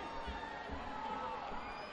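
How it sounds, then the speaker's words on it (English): Crowd cheering fills a gymnastics meet arena between Illinois State, Kentucky and Nebraska, a steady, dense roar of many voices that holds loud throughout with no clear breaks. "You can hear the crowd cheering"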